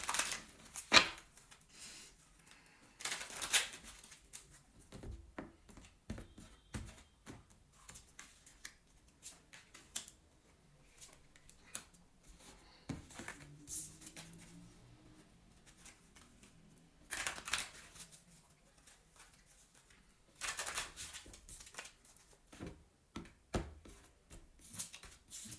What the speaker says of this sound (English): I'm gonna pull 3 cards and 3 clarifiers.